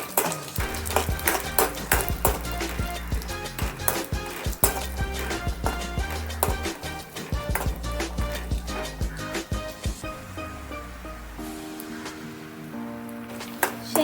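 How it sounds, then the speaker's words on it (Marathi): Half a bowl of peanuts roasts in oil in a pan, with soft sizzling under repeated scraping and clattering stirring strokes, close and with no speech. "अर्धी वाटी शेंगदाणे घेतले ते छान भाजून घ्यायचे तेलामध्ये छान भाजून घ्यायचे"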